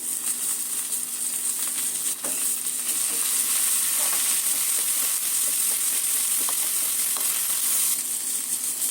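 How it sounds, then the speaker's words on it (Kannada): Fenugreek, mint and coriander leaves frying in a pan, a steady close hiss and crackle with occasional stirring scrapes and small pops throughout. "ಪುದೀನ ಸೊಪ್ಪು ಮತ್ತು ಕೊತ್ತಂಬರಿ ಸೊಪ್ಪು ಎಲ್ಲನೂ ಚೆನ್ನಾಗಿ ಬಾಡಿಸ್ಕೊಂಡ್ಬಿಡೋಣ"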